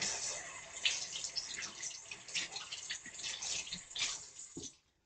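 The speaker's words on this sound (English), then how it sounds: "First, you are going to wet your hands with warm water." Warm tap water pours steadily from a faucet over hands being wet for handwashing, a continuous close splashing hiss that stops abruptly at the end.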